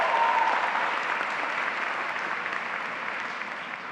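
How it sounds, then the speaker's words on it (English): Sustained audience applause fills a high school graduation ceremony hall for the 2018 class, a dense steady roar of many hands clapping that slowly eases in loudness over several seconds, with no talking. "Let's give the Boys High alumni a round of applause."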